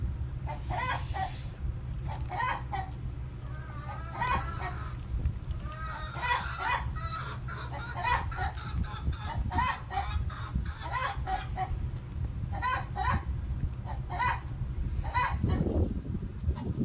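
Chickens clucking and squawking repeatedly at close range after laying an egg, a busy, uneven chorus of bird calls over a low background hum.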